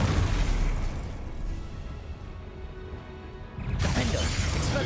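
In Hogwarts Legacy, a Confringo spell explodes as a loud, broad blast, then rumbles down and ends in a second sharp burst near the end.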